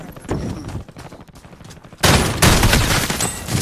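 Video game gunfire, with quieter shots and ambience at first, then a loud dense burst of rapid firing that continues to the end.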